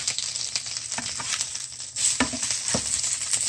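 Over-easy eggs fry in a pan, a continuous close sizzle and crackle with a few spatula scrapes and taps as they are flipped, no talking.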